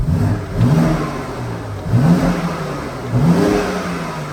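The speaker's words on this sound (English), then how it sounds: "the exhaust note's already changed, and I'll give it a little blip up for you" Three sharp engine revs from a BMW X3 M Competition SUV, each a quick rising blip that settles back, repeating about every one and a half seconds over a steady idle rumble.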